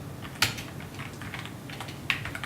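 Keys clatter on a computer keyboard as code is typed, quick irregular taps up close with two sharper keystrokes standing out, no speech.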